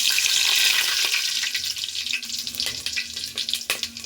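Whole spices hit hot oil for a Champaran mutton dish, giving a loud, dense sizzle that opens strong and then breaks into crackling pops and spits as it settles, with no talking.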